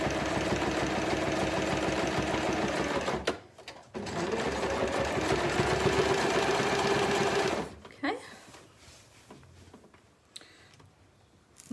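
A sewing machine back stitching a seam on a fabric shopping bag, running steadily in two long loud bursts with a short pause between, then stopping into quieter handling sounds.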